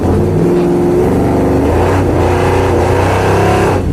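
A car on an autocross course runs on nitrous, its engine roaring loud and close as it accelerates hard, the harmonic pitch climbing and shifting with gear changes throughout.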